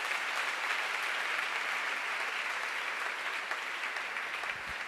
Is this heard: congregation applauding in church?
yes